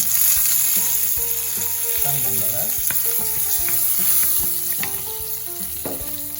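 Fennel seeds, fenugreek, garlic and curry leaves fry in hot oil for a brinjal tamarind curry, giving a steady loud sizzle with crackles and the clink of a stirring spoon, no talking.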